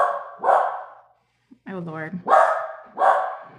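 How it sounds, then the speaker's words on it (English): An indoor dog lets out several sharp, loud barks in bursts at a refrigerator ice machine, with a pause between them while someone speaks briefly. "he's barking at the refrigerator"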